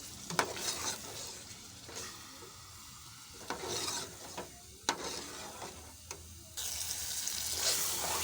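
Masala sizzles and bubbles in a pan after a splash of water is added for cooking kaleji, with stirring scrapes and a steady fry heard up close.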